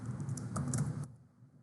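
Computer keyboard keys click in a quick, close run of taps while code is typed, then the typing stops abruptly, leaving a quiet hum.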